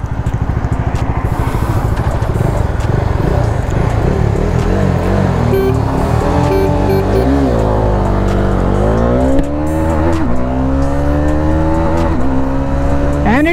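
A Bajaj Dominar 250 and a Yamaha R15M drag race with loud, close engine noise, rising and falling revs and gear shifts, while the riders' exhausts drone together throughout.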